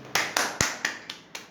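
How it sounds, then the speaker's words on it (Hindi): Six sharp, evenly spaced hand claps ring out in a quick rhythm at a gathering, loud and close, with no talking. "एक बार उनके लिए जोरदार ताली हो जाए।"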